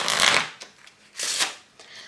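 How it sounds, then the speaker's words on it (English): A pack of playing cards is shuffled by hand at close range, with two loud crisp riffling bursts separated by short pauses and light card taps. "I'm going to shuffle it."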